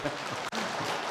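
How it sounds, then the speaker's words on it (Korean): A church congregation at a Christmas service claps together in a short, steady burst of broadband hand-clapping that fills the room evenly. "우리 영광의 박수를 하나님 앞에 올립니다"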